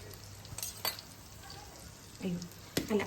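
Crushed ginger, garlic, shallots and green chilli frying in a pan, with a soft steady sizzle and a few clinks of a utensil stirring, fairly quiet throughout.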